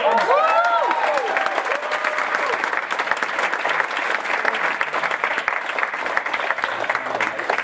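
Sustained applause from an audience at a weekly meeting greeting a speaker, dense steady clapping held at even loudness throughout, with faint speech briefly showing in the first second.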